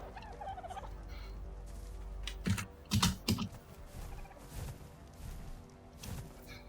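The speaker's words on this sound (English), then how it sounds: "my hands are dancing all over the keyboard" Quick bursts of typing on a computer keyboard during a session of Ark: Survival Evolved, with scattered clicks and a few louder clustered keystrokes over low background hum.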